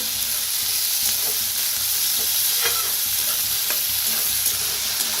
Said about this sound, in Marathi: त्याच्यात टाकूया टमाटो, 2 कापून घेतली होती बघा आपण, ते बी छान असं भाजून घेऊया